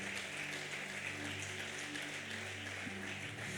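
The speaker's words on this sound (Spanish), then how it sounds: "Vamos, dale un aplauso a Dios." A church congregation applauds, a steady dense patter of many hands clapping at moderate volume, continuous and even from start to finish.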